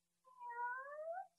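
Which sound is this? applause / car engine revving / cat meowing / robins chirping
cat meowing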